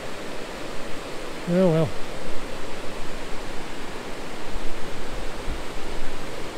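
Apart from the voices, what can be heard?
waterfall on Stillwater Reservoir Trail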